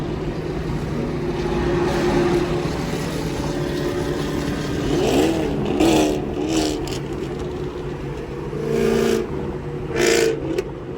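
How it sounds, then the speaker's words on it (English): A loud Ford Mustang engine heard from inside a car on a street cruise, with a rumbling drone, several revving swells and sharp bursts of acceleration rising over the road noise. "That Mustang is so fucking loud."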